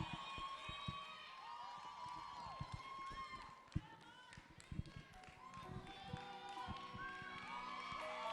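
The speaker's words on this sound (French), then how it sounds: "Un tonnerre d'applaudissements pour les encourager" An audience at a school talent show bursts into applause and cheering, with children shouting over dense, steady clapping that fills the room. An announcer's voice is heard over the crowd.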